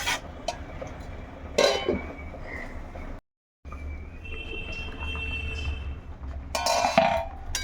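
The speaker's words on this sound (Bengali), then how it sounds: "এখন বেগুনটা দিয়ে আবারও একটু সিদ্ধ হওয়ার জন্য রেখে দেব ঢাকা দিয়ে" Eggplant pieces dropped into a simmering vegetable curry with thankuni leaves, followed by clinks and clatters of a metal pot and lid being handled, a brief silence in between.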